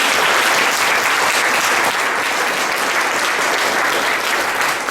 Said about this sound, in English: give a round of applause for Dubossarsky for sponsoring that